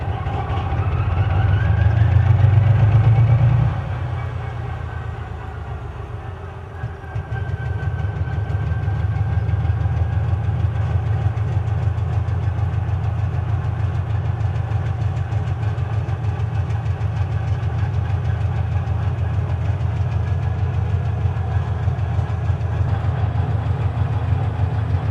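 A 3TE10U diesel locomotive, 10-cylinder, 3,000 horsepower engine, cold starts with a loud cranking surge, a brief dip, then settles into a steady, heavy low rumble that stays loud and constant to the end.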